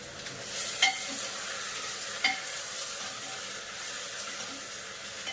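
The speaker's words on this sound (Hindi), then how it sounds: "थोड़ा सा जीरा डाल कर प्याज डाल दूँ।" Onion and cumin frying in a home kitchen pan: a steady close sizzle with occasional scraping clicks of stirring, continuous and moderately loud, with no talking.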